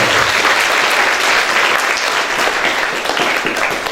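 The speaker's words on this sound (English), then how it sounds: "You can clap, you know." Sustained audience applause at a Christian preparatory school graduation ceremony, a dense, steady wash of many hands clapping without pause for the full stretch.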